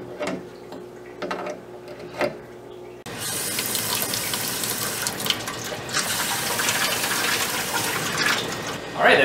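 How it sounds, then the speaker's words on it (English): Water gushes from the hot and cold tap of a newly plumbed utility sink, a steady close-up rush that starts abruptly after a few seconds of quieter handling noises and keeps flowing to the end. "We've got hot and cold water ready to go at our utility sink here."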